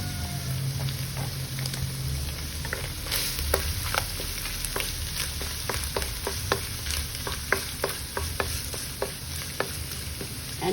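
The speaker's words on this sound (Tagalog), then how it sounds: "now we gonna saute the garlic." Garlic sautéing in oil in a pan, a steady close sizzle and crackle with scattered sharp pops throughout, no talking.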